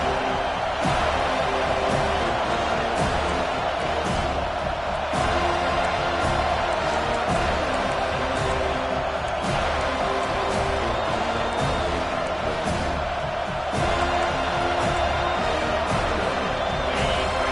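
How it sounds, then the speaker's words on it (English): A home stadium crowd in the College Football 25 video game roars continuously, a dense loud wall of cheering with rising swells, steady throughout without pauses. "Here comes his home crowd as the defense tries to get off the field on third down."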